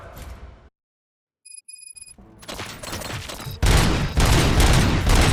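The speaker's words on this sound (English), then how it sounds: "Gunshots? What's going on?" Rapid bursts of video game gunfire in Robocop: Rogue City erupt after a short silence and a few electronic beeps, growing into loud, dense volleys like a firefight.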